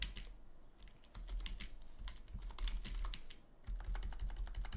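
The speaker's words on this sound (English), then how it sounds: "typing is terrible" Someone types quickly on a computer keyboard, with close, fairly quiet clusters of rapid key clicks and short pauses between bursts.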